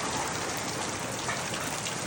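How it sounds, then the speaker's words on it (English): Heavy rain pours steadily onto a chicken coop during high winds, a dense, continuous hiss and patter with no pauses or voices. "it's really raining pretty hard"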